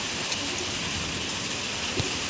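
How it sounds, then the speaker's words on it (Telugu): Rain begins to fall outdoors as a continuous, even hiss of drops with a couple of soft taps, moderately quiet and steady throughout. "వాన వస్తుంది"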